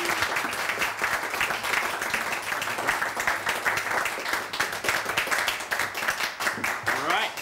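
An audience at the Terry McCann Award ceremony in Dana Point claps steadily and warmly to welcome a speaker, with dense applause sustained from start to finish and faint voices underneath.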